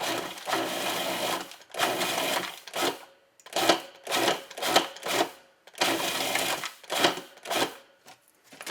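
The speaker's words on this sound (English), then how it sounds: "I'll just blend it until I get some nice crumbs with the butter" Food processor blending streusel topping with butter into crumbs, running in repeated short pulses of about a second each, loud and close with brief gaps between bursts, no talking.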